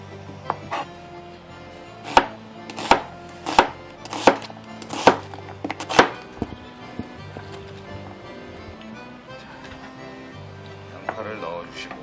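A knife slicing onions on a cutting board, a run of about seven evenly spaced loud chops followed by quieter scattered cuts, with music playing underneath.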